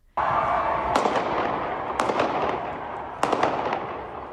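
Fireworks set off by protesters in front of federal buildings in Seattle: three sharp cracking bursts about a second apart over a constant loud hissing, crackling roar, with no talk.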